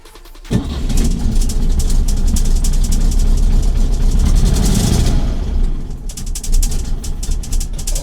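A car engine cranks and catches after new spark plugs are fitted, running roughly and loudly up close for several seconds before faltering and dying back to a lower, uneven rumble.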